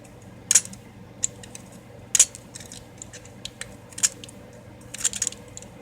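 Scraping cuts of a sharp box cutter or knife shaving a pencil, heard as a few quick, crisp, near strokes spaced apart, each a short bright rasp against a quiet background.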